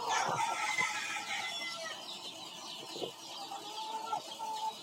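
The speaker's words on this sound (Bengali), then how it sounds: "এরা আমার খামারের টাইগার মুরগি।" Tiger breed chickens cluck and call on a farm in the morning, a steady chorus of birds at close to middle distance with no talking over them.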